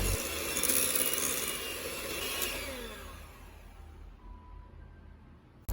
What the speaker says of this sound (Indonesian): Kemudian kita mixer sebentar saja dengan kecepatan rendah kurang lebih 1 menit atau sampai adonannya merata saja.